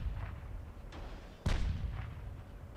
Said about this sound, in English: Was that our main gun? No, those were not our main guns.